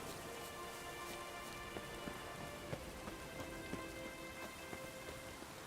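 Steady rain from the video game Witcher 3 patters on surfaces in a continuous hiss, with scattered distinct drips and soft taps throughout, faint and even, with no voices.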